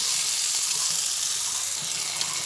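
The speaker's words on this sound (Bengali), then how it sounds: "আবার ভালোভাবে মশলাটা একসঙ্গে মিশিয়ে নাড়াচাড়া করে দিই" Chilli powder and spices being stirred in a hot frying pan for masala cabbage fry, a steady close sizzle and hiss with soft scraping, no talking.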